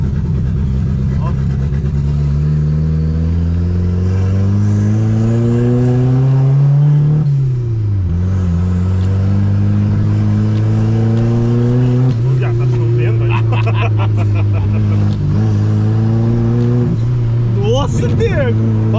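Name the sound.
VW Gol turbo car revving loudly through exhaust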